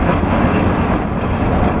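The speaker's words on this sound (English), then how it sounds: "every time a big gust hits, the whole van shakes, and it makes the loudest noises" Strong wind gusts buffet a campervan camped on the Isle of Skye, a loud steady broadband roar and rumble of wind against the van body, with no talking.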